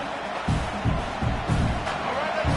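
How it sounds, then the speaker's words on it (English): A football crowd in a stadium roars steadily during a goal-line defensive stand, a broad wash of noise with rhythmic surges roughly every half second, like stomping or chanting, loud and continuous throughout. "the crowd really making some noise now, trying to help out this defense to get this stop near the goal line"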